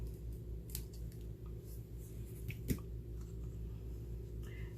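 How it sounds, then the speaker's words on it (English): Scissors trim a thin edge off paper card in a quiet crafting setting, with a few soft snips and one sharper cut, faint and close. "I am going to just trim off a little bit on this edge here so that it won't"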